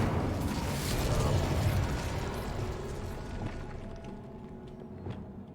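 An Incendio fire spell is cast in the Hogwarts Legacy game, a loud whooshing burst with crackling rumble that swells over the first second or two, then gradually dies away into a faint tail.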